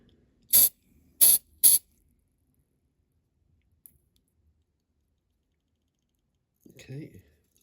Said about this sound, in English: Activator spray next to harden it